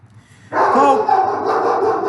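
A German shepherd lets out a single sustained, wavering bark-like whine indoors that breaks in suddenly after a near-silent moment, loud and close, with no talking.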